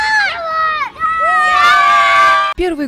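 Supporters at a children's football match cheer and shout loudly nearby, with children's voices rising in excited calls.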